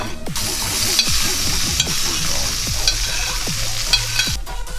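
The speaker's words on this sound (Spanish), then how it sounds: "Lo que vamos a hacer es caramelizarlo con bastante mantequilla" Sliced onion frying in plenty of butter in a pan, a loud, steady, close sizzle with rhythmic spatula strokes and scrapes every second or so, no speech.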